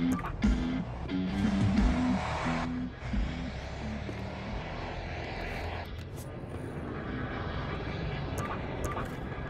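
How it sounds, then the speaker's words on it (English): A transport helicopter in the Battlefield Hardline video game roars as a steady, droning engine and rotor wash that holds loud through the whole stretch, with game voices and shouts over its start. "Transport chopper!"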